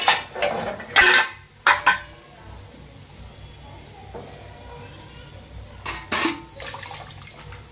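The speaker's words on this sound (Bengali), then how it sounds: "প্রচন্ড গরম একটু জল দিয়ে একটু ঠান্ডা করে নিতে হয়" Water splashes onto a very hot idli steaming tray in a home kitchen, a few short bursts of hissing and pouring with metallic clatter, close by, separated by quieter gaps.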